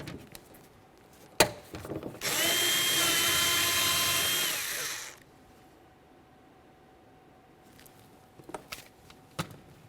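A power tool spins out an 11mm bolt holding the window channel inside a 2001-2005 Ford Explorer Sport Trac door, one steady whirring burst of about three seconds, framed by sharp clicks and handling knocks.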